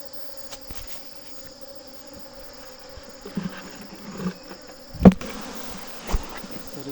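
Honeybees buzz in a steady, close hum as a hive frame is shaken, with a few soft knocks and one sharp thump cutting through the drone.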